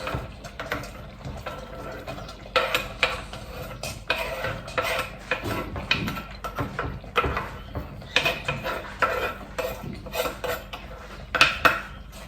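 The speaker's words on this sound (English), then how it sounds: "So in goes the onions." Diced onions go into a cooking pot for a Namibian black-eyed bean sauce, a busy run of metallic clinks, scrapes and knocks from utensils against the pot, close and irregular throughout.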